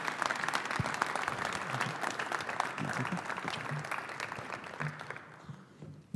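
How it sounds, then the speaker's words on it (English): Audience applause at the 2017 Gagliardi Trophy presentation in Salem, Virginia, a dense, steady clapping from a crowd that carries on for several seconds before thinning out at the end, with a faint voice underneath. "Nick Holcomb, a round of applause."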